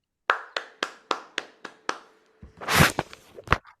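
A short burst of hand claps, about eight sharp separate claps at a steady pace, then a brief noisy swell and a few final claps, close and fairly loud.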